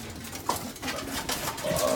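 Racing pigeons coo softly in a loft, a few faint low coos over quiet background hum.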